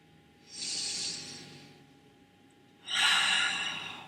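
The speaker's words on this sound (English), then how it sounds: "Deep breaths." Two slow, deep breaths during a beginner full-body stretching session, each a long airy inhale-exhale lasting about two seconds, close and moderately loud over a faint background hum.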